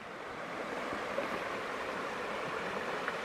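A creek flows past a campsite in Montana, a soft, steady rushing wash of water heard alone at a moderate distance.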